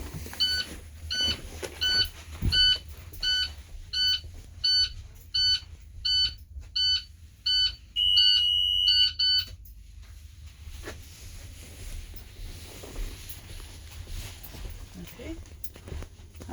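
A school bus alarm beeps in a regular pattern of short, high electronic tones, repeated about a dozen times and then stopping, with a quiet room tone and a few soft bumps and footsteps after.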